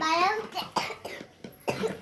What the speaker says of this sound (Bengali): কিছুই হয় না সমানে কাশছে সমানে কাশছে এত কাশি এত কাশি